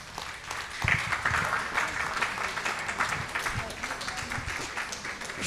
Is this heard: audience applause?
yes